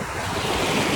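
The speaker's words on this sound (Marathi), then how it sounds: "नुसते लाटांची मजा घ्या, लाटांची मजा." Sea surf rolling in on a beach in Goa, a broad roaring wash that swells steadily louder, heard close with wind buffeting the microphone and no voices.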